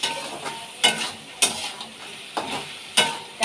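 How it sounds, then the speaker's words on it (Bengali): A spatula stirs spice paste frying with sun-dried lentil dumplings for a potato and cauliflower curry, scraping the pan in rhythmic strokes roughly every half second over a constant close sizzle. "বড়িটার সাথে একটু নেড়ে দেবো।"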